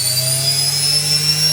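A brushed motor from a washing machine, run on a test bench, spins at high speed with a loud, steady whine and hum, its tones rising slightly as it speeds up.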